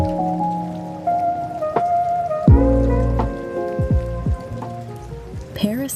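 Rain falling in a Paris scene, a steady patter of drops on surfaces heard throughout, mixed with tonal musical sounds and some sliding pitched sweeps in the background.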